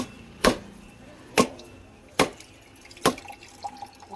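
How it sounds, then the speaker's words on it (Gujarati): A coconut is struck repeatedly against a hard surface at a shrine, four sharp, evenly spaced cracking knocks about a second apart, close and distinct over quiet surroundings. "અહીંયા શ્રીફળ વધારી નાખીએ।"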